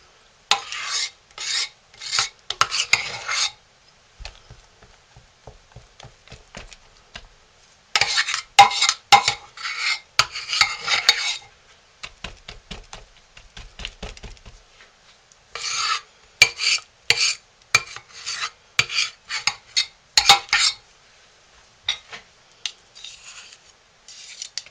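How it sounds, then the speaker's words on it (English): Spoon scraping and smoothing thick hot process goat milk soap into a mold, with repeated rasping strokes in short bursts separated by quiet pauses and occasional light taps, close and clear with no talking. "now we are going to put our uncolored soap in. Getting it evenly across the bottom is very important."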